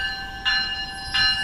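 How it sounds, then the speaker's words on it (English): South Shore Line electric trains passing on Metra track in the Chicago area, a steady rolling rumble with high tonal wheel or motor whine and two brief surges of louder rail noise, nearby. "I took some video of a few southbounds while we waited for a northbound train to arrive"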